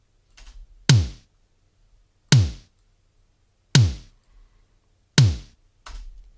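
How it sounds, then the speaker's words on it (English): Four sharp Simmons electronic drum hits, evenly spaced about a second and a half apart, each with a quick downward pitch sweep, played alone. "A Simmons drum sounds like this."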